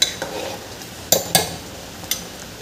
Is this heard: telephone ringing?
no